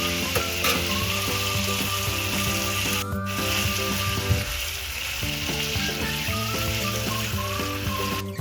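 Spices and tomato frying in a pan for a Bengali egg bhuna, a loud continuous sizzle with a spatula repeatedly scraping and stirring through the mixture.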